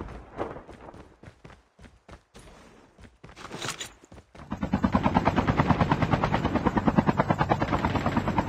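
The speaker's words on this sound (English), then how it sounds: "Airdrop is coming." In Call of Duty Mobile battle royale, an airdrop aircraft roars in: sharp gunfire bursts first, then a loud, steady rotor thump with rapid rhythmic chopping swells up close and dominates.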